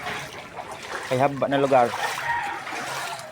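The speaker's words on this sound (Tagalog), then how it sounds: "Talagang baha mga kababayan." Floodwater from a super typhoon splashing and sloshing through a flooded village street in Sorsogon, Philippines, a continuous wet wash under someone speaking in the foreground.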